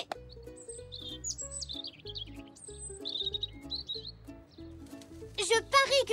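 Cartoon birds chirp and tweet in quick, bright bursts over light background music in a French children's animated series, growing busier and louder toward the end.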